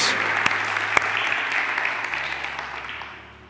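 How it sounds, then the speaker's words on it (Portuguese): A church congregation applauds in a sustained wash of clapping, with a couple of sharper individual claps standing out, before it fades toward the end. "Será que a gente pode aplaudir a Jesus mais uma vez?"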